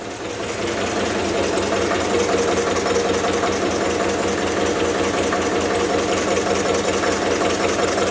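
A steady internal combustion engine running at constant speed, about 632 rpm, before its fuel line is shut off for a retardation test, a rapid, even mechanical chugging with knocking texture, loud and continuous with no talking.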